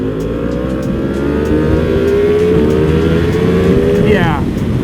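Heavily modded Yamaha R1M motorcycle pulling away, its engine note climbing steadily through the revs, loud and close, before a quick shift near the end.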